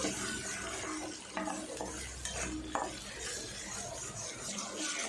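Ground onion paste with whole spices stirred in hot oil for chicken fry, a soft sizzle with scraping spoon strokes against the pan, fairly quiet and close, no talking.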